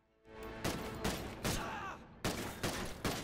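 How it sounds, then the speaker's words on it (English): A light machine gun firing in a video game, sharp, loud, close bursts of shots in clusters with reverberant tails and brief gaps between volleys. "I like this light machine gun"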